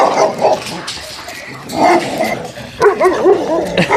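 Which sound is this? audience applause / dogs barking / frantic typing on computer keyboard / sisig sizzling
dogs barking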